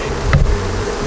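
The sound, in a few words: honey bees buzzing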